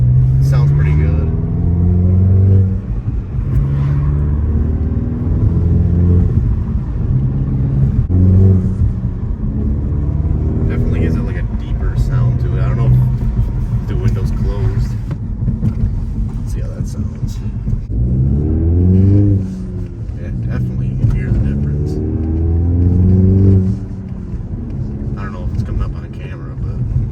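A VW MK7 GTI with a Borla S-Type cat-back exhaust drives normally in sport mode, its loud, close exhaust drone rising and falling through gear changes in a continuous throaty rumble.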